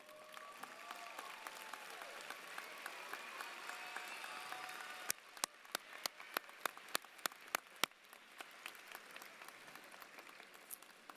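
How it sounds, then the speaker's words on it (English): Graduation audience at West High School applauding faculty and staff who have risen, a sustained wash of clapping from a large crowd that thins into scattered individual claps toward the end. "Thank you for giving them a round of applause"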